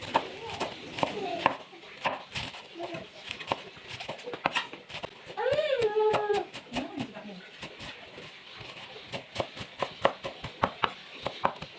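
Green onions are sliced with a kitchen knife on a board while a simple instant-noodle omelette is being prepared, giving a run of quick, sharp chopping knocks that keeps up a steady rhythm. Faint animal or bird whimpers sound briefly partway through.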